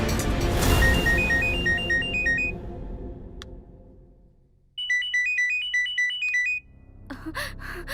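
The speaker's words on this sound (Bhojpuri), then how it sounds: "केकर फोन आवे?" A mobile phone plays a melodic electronic ringtone in repeated bursts, loud and near, with a short pause between phrases and a brief clatter at the end.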